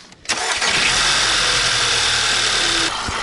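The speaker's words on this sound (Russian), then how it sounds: "Сразу первый запуск двигателя." A Volkswagen Passat TSI engine cranks briefly, then catches and settles into a loud, steady idle nearby, with no one speaking over it.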